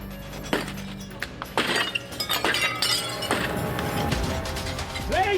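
Door glass smashed by police entry team swinging a heavy 16-kilo baton: a loud crash of shattering glass, then tinkling, scraping debris and mechanical rattling, close and alone.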